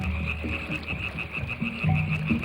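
Frogs croak repeatedly in a wetland, several overlapping calls in quick irregular bursts, close and fairly loud over a steady high insect-like drone.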